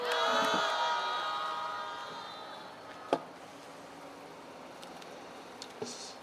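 A crowd at an outdoor citizens' rally against US economic security plunder cheers and shouts loudly at first, fading into scattered claps and murmuring.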